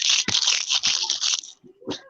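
Plastic crinkles and crackles close up for a second or so in a crisp, busy rustle, followed by a short voice.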